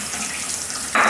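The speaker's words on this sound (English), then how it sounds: "So I'll let this tap here run for a bit longer." Water from a kitchen tap bursts on near the end, a sudden loud steady rush that follows a quiet stretch.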